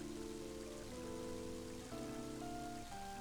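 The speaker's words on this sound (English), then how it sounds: "And then watch it now as it starts pouring rain." Steady pouring rain hisses softly and continuously in the Mother 3 video game, with simple tonal game music notes playing over it.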